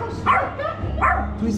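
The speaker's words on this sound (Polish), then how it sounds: "Tu jest pies jakiś." A dog barks twice in short yips amid a noisy outdoor street party, with crowd chatter and background music beneath.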